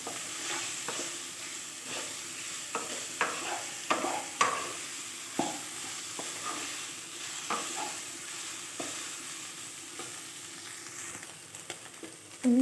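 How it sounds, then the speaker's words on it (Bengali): Soybean chunks fry in a little oil in a pan while being stirred steadily, a continuous soft sizzle broken by frequent scraping and clacking strokes from the spoon, with no talking. "দিয়ে ভালো করে এটাকে ভেজে নেব"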